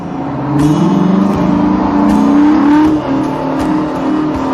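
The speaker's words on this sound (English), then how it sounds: "This is what the biggest tractor ever made sounds like." The diesel engine of the biggest tractor ever made runs close by, a loud throbbing drone that rises and swells in steady pulses, alone without voices.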